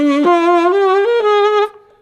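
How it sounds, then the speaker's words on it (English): A single sustained saxophone note played with an uncontrolled throat vibrato: bright, reedy and loud, its pitch wobbling unevenly and stepping slightly up before the tone cuts off cleanly. "what is easy is to do a kind of vibration in your throat"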